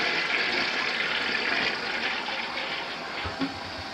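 A household toilet flushes, a steady rushing hiss of water draining and refilling the bowl, close and continuous for several seconds with a faint knock near the end.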